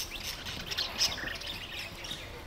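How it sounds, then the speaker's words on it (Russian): Canaries kept in an aviary in La Laguna, Tenerife, give short bright chirps and tweets, faint and scattered across a few seconds over a low background murmur. "Канарейки."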